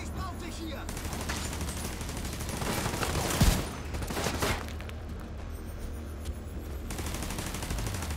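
Automatic gunfire crackles in sustained bursts during a firefight in the shooter game Tom Clancy's The Division 2, with a heavier impact partway through and someone talking in German over the shooting.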